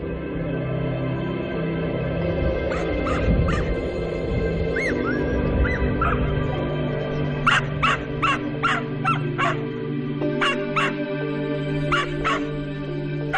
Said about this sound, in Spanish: me recibieron los ladridos de un perro atado entre los restos de vigas y viejas ruedas de vagones